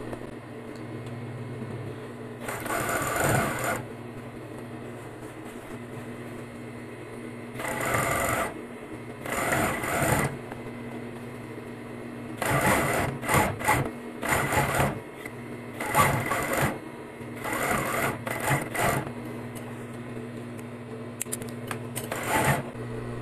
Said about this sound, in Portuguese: Então eu vou dobrando aqui e vou costurando.